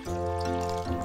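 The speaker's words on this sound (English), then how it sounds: "in a pot, I'm gonna put in a strip of kombu, and then to just speed up the process, I'm gonna pour some hot water." Hot water pours steadily into a cooking pot holding a strip of kombu, a continuous close splashing fill with rising resonance, for a chicken hotpot.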